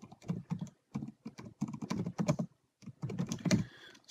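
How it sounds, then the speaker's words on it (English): Rapid typing on a computer keyboard comes in close, crisp bursts of keystrokes separated by short pauses. "I can start typing in this rich editor"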